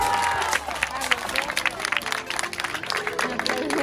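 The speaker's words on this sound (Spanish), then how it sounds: "a quien le damos un fuerte aplauso." A crowd claps loudly and continuously at a Día de Reyes festival, with scattered voices and cheering mixed into the dense patter of hands.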